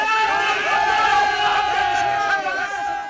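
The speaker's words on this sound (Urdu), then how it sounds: "کارکنوں نے سندھ ہاؤس کے اندر شدید احتجاج اور نعرے بازی کی" Protesters inside Sindh House chant slogans in a loud, close group, voices rising and falling together in a rhythmic, sustained chorus.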